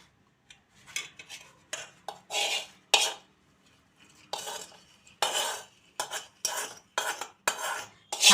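A spoon stirs a fried tempering into coriander chutney, giving repeated close scraping and clinking bursts against the bowl in an uneven rhythm, with no talking.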